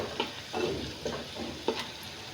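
Chopped onion fries in a pan for bitter gourd bhaji, a soft continuous sizzle broken by a few spaced stirring scrapes and light clicks, close and fairly quiet.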